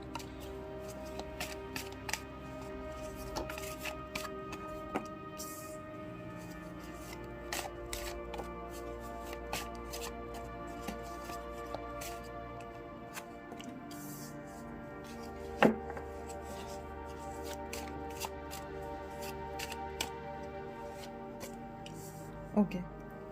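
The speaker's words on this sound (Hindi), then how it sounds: "तो यहाँ पे अब करते हैं कार्ड्स को शफल।" Tarot cards being shuffled by hand at close range, with soft repeated riffles and taps and an occasional sharper knock of the deck over a low steady background hum.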